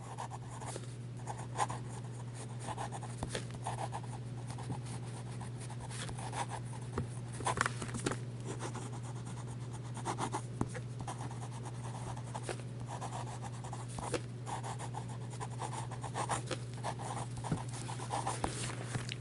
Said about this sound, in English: And we'll do a little faster writing.